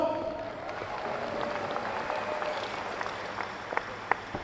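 Applause from a crowd at a school district educator's motivational speech, a soft, continuous patter of many hands heard from a distance, with a few sharper claps standing out near the end.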